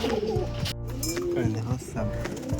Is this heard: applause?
no